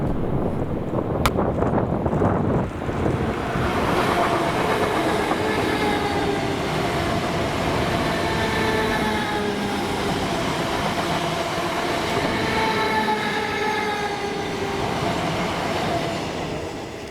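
A DB Cargo mail train formed of Class 325 units rumbles past Carluke station, a loud, continuous roar with rail clatter and rising whine holding steady throughout the pass-by.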